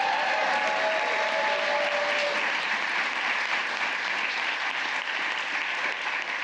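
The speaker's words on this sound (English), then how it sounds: "You can clap for that because this lady did." Audience applause at a White House bill-signing ceremony, a dense, even wash of clapping from a large crowd that holds steady for the whole stretch.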